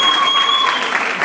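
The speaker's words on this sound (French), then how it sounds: "Applaudissements" Brief burst of audience clapping at a screening event, dense and fairly close, with a steady tone and a hint of voices mixed into the background.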